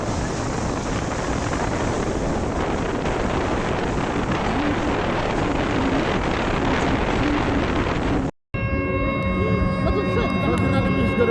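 A jet ski speeds over open water in Chitwan, with a loud, steady roar of wind and spray that runs without a break before cutting off abruptly near the end.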